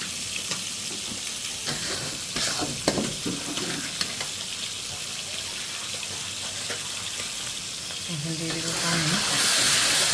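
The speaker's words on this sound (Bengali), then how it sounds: "দিয়ে মশলাটা ভালো করে কষাই নেব" Beef and spices, including cumin paste, chilli, turmeric and coriander, stir-fried in a pan: a continuous close sizzle with scraping stirs and clinks throughout, the frying noise swelling louder near the end.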